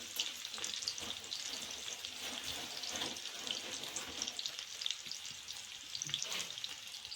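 Onion frying in oil for a tempering: a faint, steady sizzle and crackle with a few light scraping stirs, heard close but quiet and without voices.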